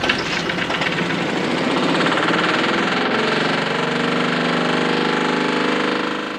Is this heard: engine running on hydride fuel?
yes